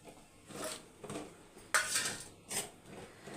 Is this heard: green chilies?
yes